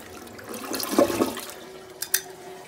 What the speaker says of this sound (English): Now, Thomas, flush it.